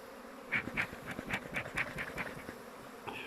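A honeybee swarm is being captured at an apiary in Kahramankazan. A dense, steady buzz of many bees fills the clip, with louder individual bees darting close in short bursts.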